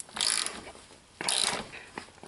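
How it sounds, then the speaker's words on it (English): A ratchet backs out a dry rear shock bolt on a 1994–2004 Jeep Grand Cherokee, giving two loud bursts of rapid clicking close by with a short pause between them. "I used my ratchet to get it the rest of the way out"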